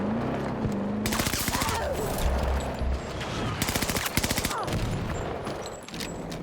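Suppressed automatic fire from a gun in Battlefield 2042 rattles in rapid bursts, close and steady, with short pauses between strings of shots.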